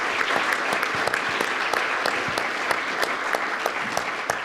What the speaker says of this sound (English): another round of applause for our veterans and loved ones that are in the crowd today